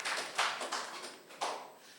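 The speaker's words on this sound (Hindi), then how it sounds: "सो खुद के लिए ताली बजाइए" Children clap for themselves at a ministry training session, a few scattered quiet claps and taps close by rather than full applause.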